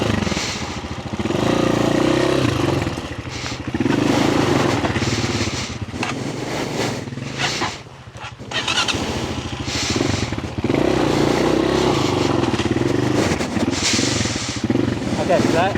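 A CF Moto 450MT motorcycle on a dirt trail runs loud and close, its engine droning and revving steadily through most of the stretch, with a brief dip midway, while people talk over it.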